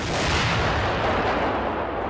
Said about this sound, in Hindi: तोप से गोला छूटते ही वहां ऐसी तेज आवाज हुई मानो बिजली गरजी हो